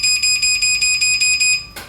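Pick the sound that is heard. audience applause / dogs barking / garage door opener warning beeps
garage door opener warning beeps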